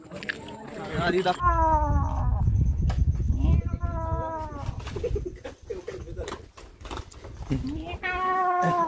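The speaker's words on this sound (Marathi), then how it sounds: "मांजराला उठवलंय" A cat meows several times after being woken, with a drawn-out, harmonic cry near the start, more calls through the middle and another at the end, over the rumble of a motorbike on a muddy monsoon trail, with people talking.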